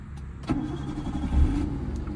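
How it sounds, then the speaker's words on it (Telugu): A 2009 Maruti Suzuki Wagon R starting on the first crank: a short starter burst, then the engine catching and settling into a low, steady idle, heard close from inside. "సింగిల్ సెల్ఫ్లో బండి అనేది స్టార్ట్ అయిపోతుంది."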